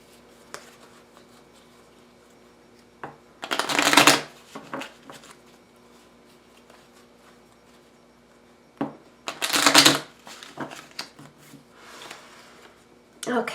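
Tarot cards are shuffled in two brisk bursts of riffling and slapping, each lasting about a second, close and crisp, separated by quieter handling sounds and soft taps.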